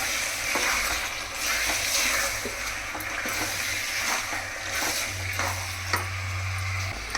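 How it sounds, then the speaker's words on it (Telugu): Mutton pieces and kidneys sizzle steadily in a pan as they are stirred, with a constant frying hiss and soft scraping and clinking at close range. "ఈ మటన్ ముక్కలు కూడా వేసేస్తున్నాం. కిడ్నీలు 2 వేయించా. ఇది మొత్తం ఒకసారి కలిపేసుకుందాం."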